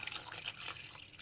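A pint glass of water tipped onto a kitchen cooker, a faint, brief splashing and trickling of liquid heard alone.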